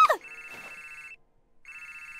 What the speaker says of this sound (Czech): Vida, vida, vida, volá kluk,